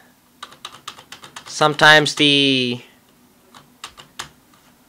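Keys clatter on a Dell Dimension 8400 desktop keyboard in quick, close clicks before and after a short stretch of speech that briefly interrupts the typing.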